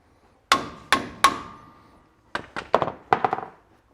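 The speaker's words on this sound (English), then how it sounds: "you preload them up and you whack them on the end with a hammer" Sharp metallic hammer strikes close by on an impact screwdriver during a Toyota rear axle bearing overhaul: three evenly spaced blows, a pause, then a quicker cluster of lighter taps.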